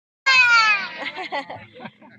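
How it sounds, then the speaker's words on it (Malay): A cat gives one loud, drawn-out meow that falls in pitch, followed by softer fragmented sounds, during a family Eid visit to relatives' home. "Kucing lagi."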